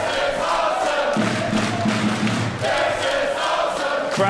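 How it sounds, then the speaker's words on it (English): Wrestling crowd at an OWE showcase event in Berlin, a loud sustained roar of cheering and shouting filling the hall for several seconds. "Crowd here in Berlin, absolutely loving this OWE showcase as CIMA gets the boot up."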